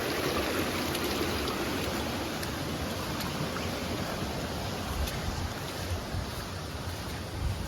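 A small stream waterfall near a house pours continuously, a dense, even roar of falling water heard up close with faint crackling splashes and no one talking.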